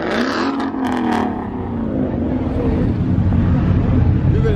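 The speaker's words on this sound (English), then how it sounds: "Got the Hellcat out." A Dodge Hellcat's engine rumbles loud and close at a crowded car meet, a steady heavy drone lasting throughout with voices and crowd noise mixed in.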